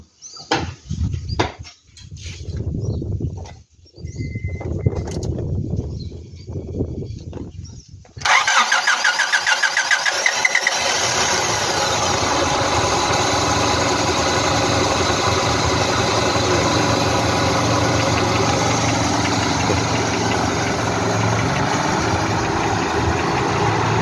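Honda Odyssey engine with a newly replaced starter, first a few short cranking bursts, then the engine catches and settles into a loud, steady idle that runs on alone.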